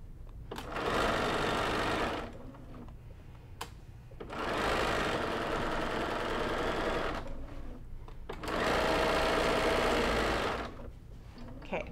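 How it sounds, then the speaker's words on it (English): Sewing machine stitching a half-inch seam on a simple tote bag, running in three steady whirring bursts of roughly two to three seconds each, separated by short pauses, loud and close with no talk. "So I'm gonna start stitching right here, also using half inch seam allowance."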